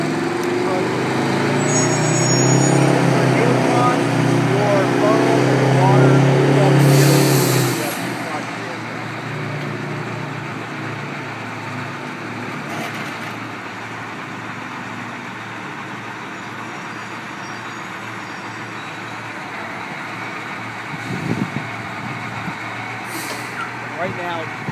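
An airport fire and rescue crash truck rumbles loudly as it repositions, its heavy engine prominent in the opening seconds before easing to a lower idle hum, with a hiss near the end and a person talking over it.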